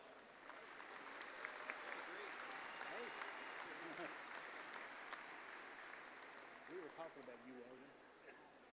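Faint, steady applause from a large audience at a university spring commencement ceremony honoring graduates, a continuous soft patter of many hands heard at a distance, with a voice speaking over it.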